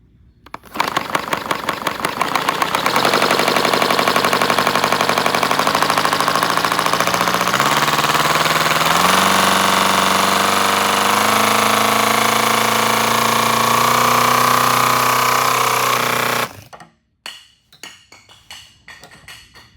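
A 70cc boxer four-cylinder model engine with dual exhaust starts up and runs loud and steady with a dense buzzing drone for about fourteen seconds, its pitch shifting slightly, then cuts out abruptly into brief low clatter.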